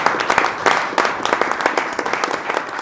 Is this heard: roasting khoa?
no